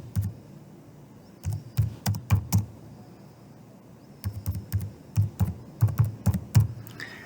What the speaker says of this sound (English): Then we type in the case name.